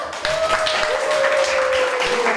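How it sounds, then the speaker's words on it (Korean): Crowd at a labor rally applauding each other in encouragement, a dense, loud clapping sustained throughout, with a steady tonal hum running beneath it. "서로에게 힘찬 격려의 박수 한번 쳐주면 좋겠습니다."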